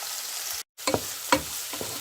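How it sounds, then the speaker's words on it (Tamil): Garlic and green chillies sauté in hot oil in a pan for a Tamil drumstick and jackfruit seed curry, giving a steady close sizzle broken by a short cut and a few stirring scrapes. "போட்டு எல்லாத்தையும் இப்போ கொஞ்ச நேரம் வதக்க போகிறேன்."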